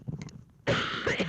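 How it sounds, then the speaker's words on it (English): A single short cough from one person in a quiet room, sharp onset then a brief rough burst, with faint breathy sounds before it and no talk. "it's like the more I talk, the more I cough."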